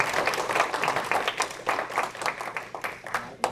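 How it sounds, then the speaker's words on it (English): Crowd applause at a political conference gathering, dense rapid clapping from many hands swelling and fading in waves, with some voices mixed in. "You can applaud to that."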